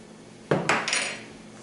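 Two or three quick metal clinks of a spoon against a pot while stirring yogurt, brief and close with a short ring after each knock.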